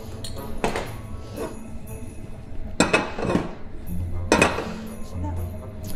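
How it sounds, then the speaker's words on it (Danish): A spoon clinks against a pot on the stove as two spoonfuls of sugar go in for caramel to make brown gravy, with several sharp metallic taps spread across the clip. "Så tager vi egentlig bare 2 spiseskefulde sukker ned i gryden."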